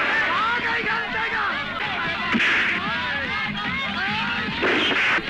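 A Bangla action movie scene plays with repeated gunshots and booming blasts amid a busy soundtrack, the shots popping out over shouting voices and music throughout.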